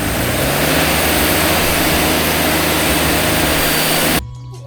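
Mast sawmill engine run on a string-pulled throttle, a loud sustained roar held for about four seconds before dropping sharply to a low idle.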